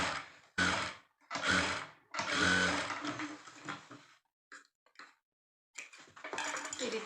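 A sewing machine stitches a puff sleeve in short bursts of rapid, close mechanical whirring, three quick runs followed by brief clicks and a final run after a short silence.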